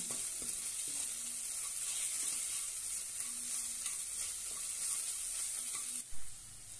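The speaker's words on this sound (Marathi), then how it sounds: "आता छानपैकी परतून घेऊया" Chilli powder, coriander powder, garam masala and turmeric sautéing in oil, a steady bright sizzle with occasional soft spoon strokes, close and uninterrupted, ending in a brief bump.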